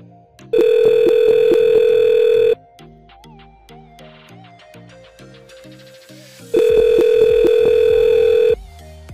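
Two long electronic ringback tones from a SIP PBX call, separated by a pause, steady and loud, with faint background music underneath.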